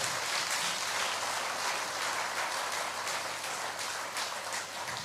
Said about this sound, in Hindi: ताली सभी लोग हाथ उठा के बजाएं, जिससे कि नींद ना आए